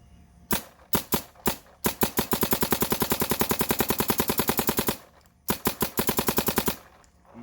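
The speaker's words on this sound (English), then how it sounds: "we just want to take some shots with it, get a feel for what it sounds like and what it feels like to shoot" A Planet Eclipse Geo 4 paintball marker fires nearby, with a few spaced single shots followed by a long rapid string of sharp, evenly paced pops, a brief pause, then another quick burst.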